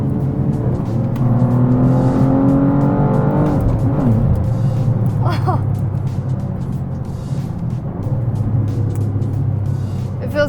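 A new BMW G87 M2 engine revs up and blips with automatic rev matching in Sport mode, its tone rising and falling through gear changes as someone talks over the steady interior drone.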